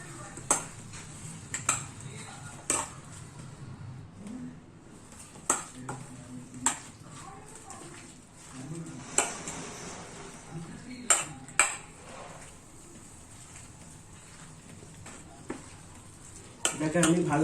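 Meat is mixed by hand or spoon with garlic-ginger paste and oil in a bowl, giving sharp clinks and scraping taps at irregular intervals over a quiet kitchen background.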